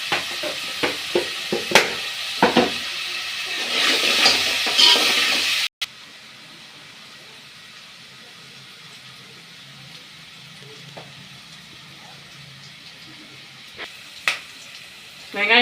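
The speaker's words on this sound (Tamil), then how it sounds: "வெங்காயம் பொரிஞ்சாச்சு." Onions frying in oil with crushed garlic and curry leaves for a kavalai fish curry, a loud sizzle with stirring taps that cuts abruptly to a quieter, faint background hiss with occasional clinks.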